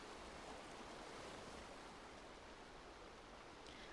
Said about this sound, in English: I love being by the waterfall.